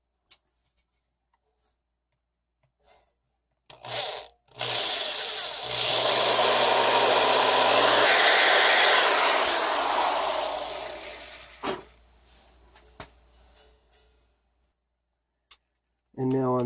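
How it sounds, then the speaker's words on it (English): A drill starts up after some clicks, runs with a loud high-pitched whir for several seconds drilling holes in a cracked crash cymbal, then winds down, followed by scattered taps and clicks. "then drill multiple holes drilling out the crack."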